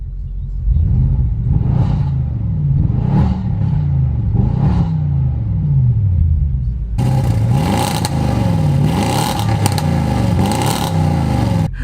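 Audi RS7 with an Armytrix exhaust in closed-valve mode, revved several times in quick blips that rise and fall over a deep idle, then a louder, raspier stretch of sustained revving, near and without talk.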